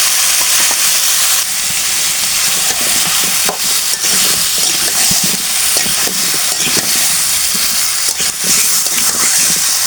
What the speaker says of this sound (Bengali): এখন ম্যারিনেট করা মাংসগুলো তেলের উপর দিয়ে দিব। সঙ্গে আলুগুলো দিয়ে দিব।